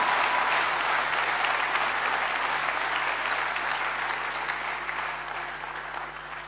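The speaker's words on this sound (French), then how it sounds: "Clap for Jesus." A church congregation claps in sustained, dense applause throughout, fading slightly toward the end.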